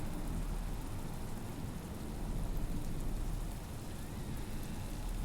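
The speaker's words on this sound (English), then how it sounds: "It's a very rainy city. Is it gonna rain the entire time I'm here?" Steady rain falling in a rainy city in the video game Hob's Barrow, a constant soft hiss of drops at moderate level with no talk.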